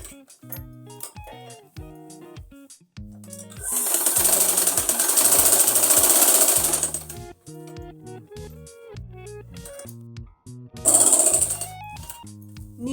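A sewing machine stitches the bottom of an Afghani salwar, loud and close, with two long fast runs of whirring needle strokes between slower intermittent clunks and pauses.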